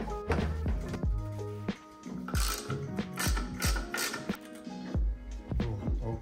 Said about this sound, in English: So now we can undo these bolts right here.